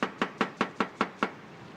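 Knife chopping napa cabbage on a cutting board: seven crisp, evenly spaced chops about a fifth of a second apart, close and clear, then the cutting stops.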